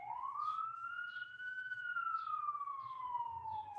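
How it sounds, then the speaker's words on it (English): A fire engine siren wails at a distance, its pitch rising and falling slowly in one long sweep, faint over a low steady background rumble. "I don't know if you can hear the fire engine."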